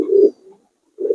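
A pair of Pakistani pigeons coo in two short, close bursts, the first at the start and the second near the end, with a near-silent gap between them.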